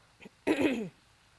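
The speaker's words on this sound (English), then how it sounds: "forgive me if I clear my throat quite a bit" A single short, rasping throat clear from someone getting over a cold, close and fairly loud, preceded by a faint small noise.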